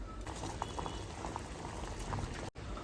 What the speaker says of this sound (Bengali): এটাকে আমি জলে সিদ্ধ করে নেব।